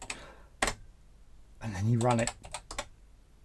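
Keys clack on a BBC Micro computer keyboard in short bursts of typing close up, with someone speaking briefly between the keystrokes.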